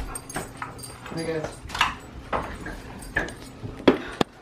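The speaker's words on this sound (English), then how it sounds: "they're smelling my mom's two dogs" Two house dogs sniff and whimper up close, with soft snuffling and short whines scattered under a person's casual talk.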